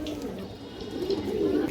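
A healthy female pigeon coos in a soft, low, rolling call that builds toward the end, close by, with faint human voice in the background.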